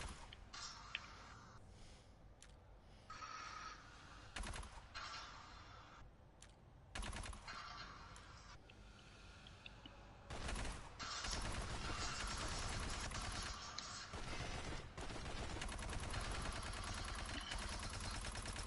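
PPZ submachine gun in Aliens: Fireteam Elite firing in rapid bursts of varying length, separated by brief gaps, with the game's background sounds between them; quiet overall.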